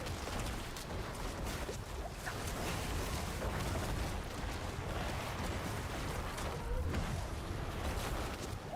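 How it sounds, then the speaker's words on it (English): Explosions in the Diablo 4 video game boom repeatedly in a dense, continuous barrage of blasts and rumbling impacts, fairly quiet overall with no talk. "More explosions."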